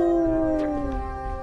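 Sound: voice imitating a dog howling

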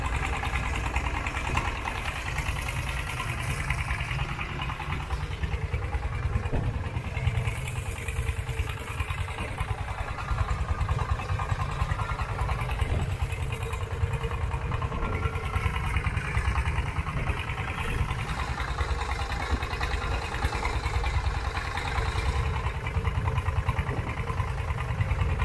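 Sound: boat engine running while crossing to island

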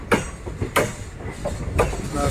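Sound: train wheels clattering while changing tracks

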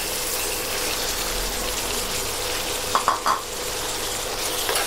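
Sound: stir-frying vegetables with hed phor mushrooms in a pan

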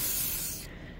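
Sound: spraying lubricant on a car's convertible top

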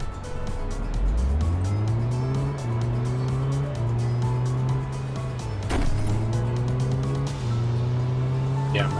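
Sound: car driving in the video game Big Ambitions

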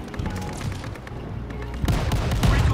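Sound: gunfire in a video game

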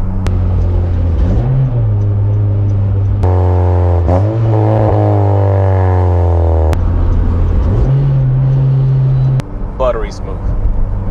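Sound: car engine while downshifting with a Hybrid Racing short shifter

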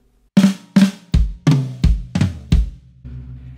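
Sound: drum flams on snare and toms with bass drum

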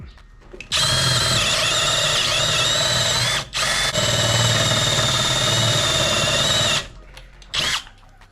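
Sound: PUMA PM-245BL cordless drill with hole saw drilling wood

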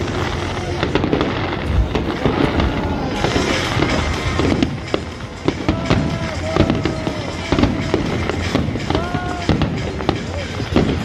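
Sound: fireworks exploding at Firelight Festival, Melbourne

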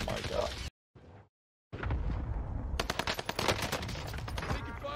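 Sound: gunfire in the video game Call of Duty: Warzone

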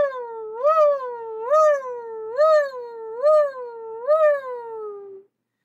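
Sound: voice imitating sirens in high vocal range

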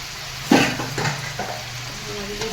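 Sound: fish frying in a pan for Bengali pekal fish curry

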